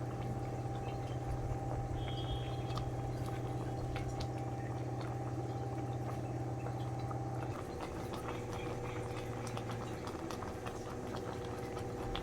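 Ragi flour porridge (mudde) boils in a pot, a steady bubbling hiss with a constant low hum beneath it, which shifts slightly partway through and carries on unbroken and close.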